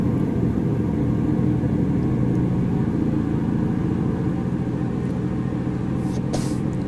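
Steady low diesel engine rumble from a simulated Union Pacific DD35 locomotive in Train Simulator Classic, a constant throbbing drone under way on open rail, with a brief higher hiss near the end.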